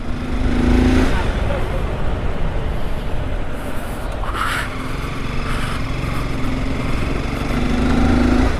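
A motorcycle engine runs steadily on a ride along a state highway toward a village, giving a loud, continuous rumble with wind noise throughout and a rider talking over it.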